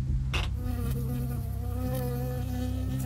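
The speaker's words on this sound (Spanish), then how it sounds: "Una abeja." A bee buzzes steadily in the game Firewatch, a loud, close, continuous drone over a low hum, no voices.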